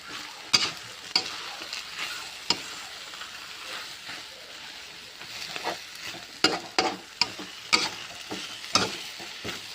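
Rice noodles with egg and cabbage stir-fried in a wok for a simple home dinner, a steady sizzle broken by repeated sharp scrapes and clanks of the spatula at an irregular pace, close and clear with no talking.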